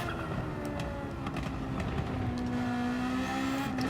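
A race car's engine in Gran Turismo 7 revs and shifts through corners, with sustained harmonic engine tones and faint crackles and pops over the drone.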